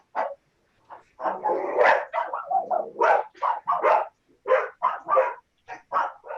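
A dog barks repeatedly and loudly in short, irregular bursts over several seconds, with some whiny yips mixed in, fairly close during an online group meeting.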